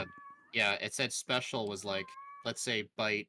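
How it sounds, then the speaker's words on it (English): A cat meows repeatedly in a continuing back-and-forth among people talking, its cries mixed in with and partly under the conversation. "I thought that was my cat."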